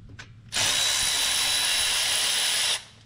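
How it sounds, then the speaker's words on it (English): A power tool whirs continuously for about two seconds, loud and close, while removing the fuel injector hold-down bolts on a John Deere engine, with brief handling noise before and after. "So next step is we pull out the injector hold down bolts."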